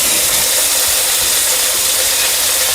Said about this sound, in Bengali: এরপর এর মধ্যে দিয়ে দিলাম কেটে রাখা টমেটো কুচিগুলো।